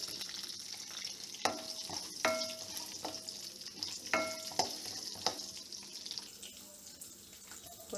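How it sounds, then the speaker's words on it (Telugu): Drumstick pieces frying with curry leaves in a pan, a soft crackling sizzle with sharp scraping stirs and clinks of a spoon against the metal, fairly quiet and close. "కరివేపాకు వేగాక ములక్కాయ ముక్కలు, వేసుకొని కొద్దిసేపు వేగనివ్వాలి."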